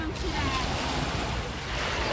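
Beach surf rushing and washing over a sand castle, a steady close wash of water with wind buffeting the microphone.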